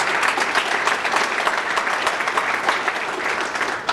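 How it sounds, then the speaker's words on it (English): A room full of people at a State of the City address claps steadily for a few seconds, a dense, even wash of applause with no voices on top. "Let's give a nice round of applause for our library."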